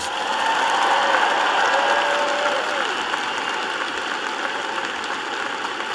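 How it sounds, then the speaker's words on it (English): Audience applause for graduates' parents and families at a ceremony, a broad steady wash of clapping from a large crowd that holds at an even level throughout. "let's give a big round of applause to your incredible parents, grandparents, and family members."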